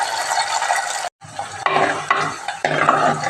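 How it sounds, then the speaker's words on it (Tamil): Garlic and onions sautéing in a pan for venthaya kuzhambu, a loud, busy sizzle under repeated scraping strokes of a metal spoon, cut briefly by a near-silent gap before the frying and stirring return strongly. "நல்லா வதக்கி விட்டுக்கணும்."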